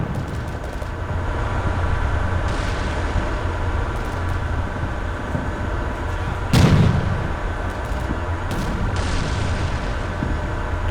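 In the video game Combat Mission Black Sea, a single artillery boom cuts through a steady, dense wash of battlefield rumble and noise, with faint distant reports before and after.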